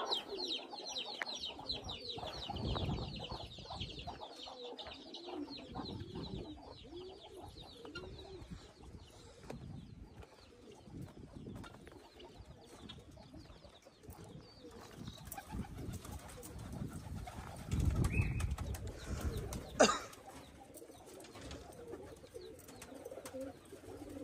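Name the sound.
chickens and pigeons roaming on a farm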